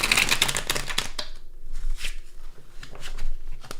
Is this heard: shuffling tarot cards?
yes